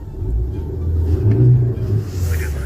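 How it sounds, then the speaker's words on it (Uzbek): A car engine revs up under throttle, a loud low rumbling roar that swells toward the middle and eases off, close by with no talking. "Aka, mana gaz beraman."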